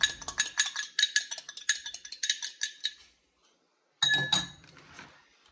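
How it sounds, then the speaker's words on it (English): A fork whisks eggs in a bowl for a cheesecake batter, giving about three seconds of quick, rhythmic metallic clinks, then a short pause and a second brief burst of scraping clatter, close and clear with no talking. "we're going to give them a quick whisk with the fork before we add them in"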